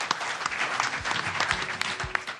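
Audience at a 2013 economic forum on the creative economy breaks into steady applause, a dense patter of many hands clapping in a hall, fairly soft and continuous.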